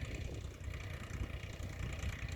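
A tractor engine runs steadily during cumin sowing in a field, a low, even rumble heard at moderate distance with no talking.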